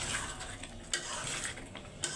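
Meat sautéing with spices in a pot on a low gas flame, a close, steady hiss of frying with a few sharp clinks of a spoon against the pot.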